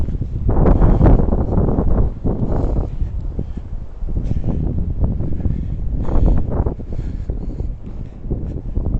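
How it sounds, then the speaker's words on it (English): Gusty wind outdoors in a park beside the water buffets the microphone with a steady, loud roar and rumble for the whole stretch, with faint scattered knocks and rustles. "It's windy, so you're going to be hearing a lot of banging."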